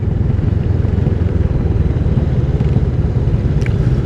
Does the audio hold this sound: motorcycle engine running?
yes